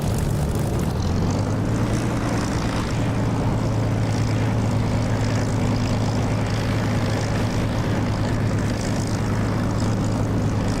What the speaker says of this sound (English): Taxiing to runway.